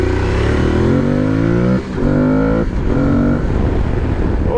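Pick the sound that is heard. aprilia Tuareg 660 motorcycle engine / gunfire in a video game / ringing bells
aprilia Tuareg 660 motorcycle engine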